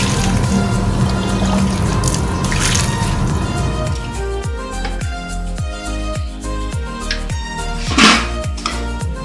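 Water pours from a container onto potted plants at home, starting as a loud, steady rushing splash, then easing into a quicker patter of drips and trickles, with one brief louder splash near the end.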